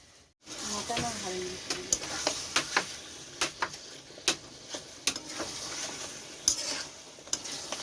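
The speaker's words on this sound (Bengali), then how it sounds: "চলো এটা কষা হোক একটু ঢেকে দিই" Mutton for curry sizzles as it is sautéed in a pan, with a steady frying hiss broken by sharp spatula clicks and scrapes against the metal at irregular intervals, close by.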